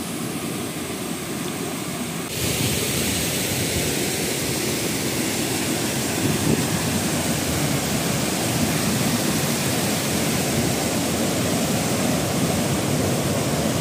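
A fast-flowing stream roars in a dense, steady rush close by, swelling suddenly early on and then holding loud and unbroken.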